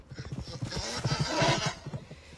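A horse whinnies and snorts amid a loud, dense battle soundtrack from a Game of Thrones episode, the neigh rising and falling over rumbling, clattering action noise.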